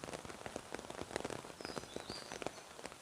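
Light rain patters on surfaces in a flooded village as the downpour eases, a soft, irregular scatter of close drops over a faint background wash, with no talking.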